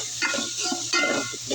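Onion, ginger and tomato sauté in a pot, a busy sizzle broken by repeated stirring scrapes and clinks, close and alone.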